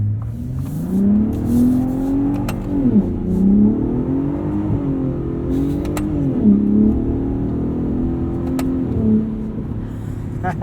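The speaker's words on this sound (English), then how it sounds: "there's definitely some more exhaust shenanigans in Baja mode" A 2021 Ford F-150 Raptor 37 Performance Package accelerating in Baja mode on a dirt road, its exhaust rising and falling through repeated revving pulls, steady and close throughout with no talking.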